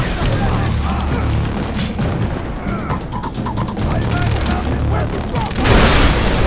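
Explosions and gunfire from the Far Cry 3 video game roar loudly and continuously, with repeated booms and bursts of shots that hit hardest near the end, while someone talks excitedly over the action.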